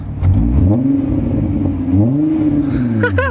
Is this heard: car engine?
yes